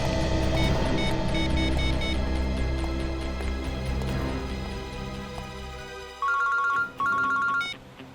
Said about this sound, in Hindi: हाँ चित्रोली सर, कहिए क्यों फोन किया?